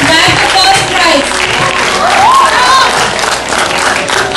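Applause and crowd noise fill a school prize ceremony for a Hindi declamation winner, a steady, loud wash of clapping with voices and cheering mixed in throughout.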